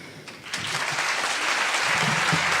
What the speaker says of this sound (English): Another round of applause for my dear sister, Wendy Ann Zellea.